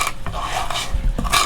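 A knife blade presses and scrapes garlic with salt against a board, a few short gritty crunches and slides in quick succession, close and fairly loud with no talking.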